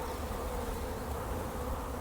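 Honey bees, mostly old workers, buzz in an opened hive: a dense, steady drone that stays close and unbroken.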